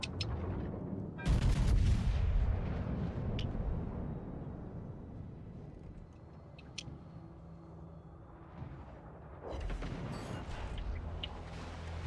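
A naval gunfire exchange in a warship video game, with the Schlieffen's broadside heard as heavy booming salvos and a low rumbling roar, loud at the start and again near the end.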